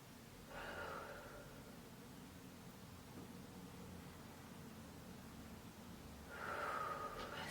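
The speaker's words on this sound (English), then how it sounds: "Couple more deep breaths." Slow, deep breaths during a Pilates stretch, with two long airy inhales or exhales near the start and end separated by a quiet stretch of soft background hiss.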